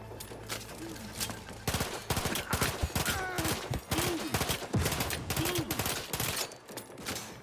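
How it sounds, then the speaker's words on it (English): Gunfire in The Outer Worlds 2 rattles out in rapid, loud bursts of shots that continue almost without pause, with short rising tonal effects between them. "Just unload this gun in his spine."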